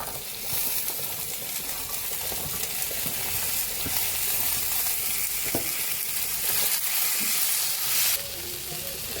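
Potatoes and Malabar spinach seeds frying in a pan, a steady moderate sizzle broken by occasional clinks of a stirring utensil. The hiss brightens near the end.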